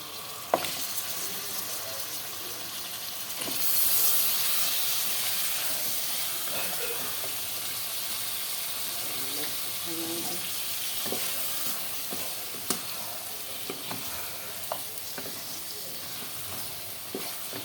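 Chicken meat with onion frying and being stirred in a pan, a steady loud sizzle and hiss throughout, a hissing burst near the start, and scattered clicks and scrapes of stirring later on.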